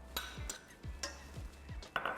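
A spoon clinks against a pot while caramelised onions are stirred into hot fluffed rice for Lebanese rice, several light metallic taps spaced apart, quiet and close.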